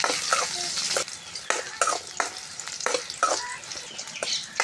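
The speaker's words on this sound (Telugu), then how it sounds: "ఇలాగ ఎండుమిర్చి వేద్దాం 4 కాయలు." Four dried red chillies fry in hot oil alongside green chillies, a bright constant sizzle punctuated by repeated scraping stirs, close and fairly loud with no speech.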